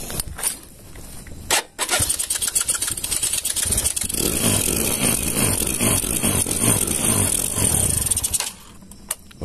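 A 110cc motorcycle running on an LPG converter kit with its carburetor set to three-quarter turn cranks and starts, then idles and revs steadily for several seconds before cutting off, loud and close with no talking.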